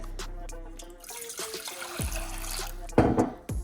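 Water splashes and trickles into a medium pot for making chai, with a few clinks and a louder gush of pouring near the end, close and clear.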